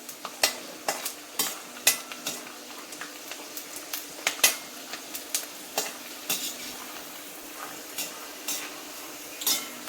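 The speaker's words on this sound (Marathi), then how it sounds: "असे बारीक गॅसवर चांगले फुलेपर्यंत भाजून घ्यायचे." Cashews and peanuts being dry-roasted and stirred in a pan over low gas for poha, with repeated scraping and clinking of a spoon against the pan and a soft sizzle running steadily underneath, close and unaccompanied by speech.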